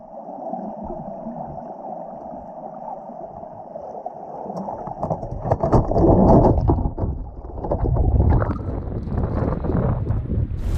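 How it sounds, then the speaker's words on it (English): A strong, cold wind gusts across an empty fishing pier, roaring and buffeting the microphone. It starts as a low rumble and builds into heavy, surging gusts that carry on through the whole clip. "Nobody on the pier. Super, super rough from this wind."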